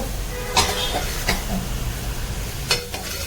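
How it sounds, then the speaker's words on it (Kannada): Garam masala stirred and fried in a pan for a Kannada dal tovve, a low steady sizzle broken by a few sharp scraping strokes of the spoon near the start and end. "ಅದನ್ನು ಹಾಕಿಬಿಟ್ಟು ಒಂದು ಸೆಕೆಂಡ್ ಫ್ರೈ ಮಾಡ್ಕೊಂಬಿಡೋಣ"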